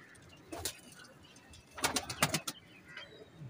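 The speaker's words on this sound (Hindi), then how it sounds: "हाई फ्लाइंग कबूतर हैं दोस्तों ये।" High-flying Saharanpuri pigeons coo softly on a rooftop, a few short close calls over quiet background, with clicks and rustles in between.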